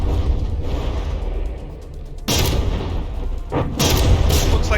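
Battleship shells striking in the naval combat game From the Depths, heavy booming impacts with a rumbling crash at mid-point and another burst near the end, loud over a constant low battle roar.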